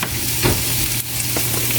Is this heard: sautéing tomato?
yes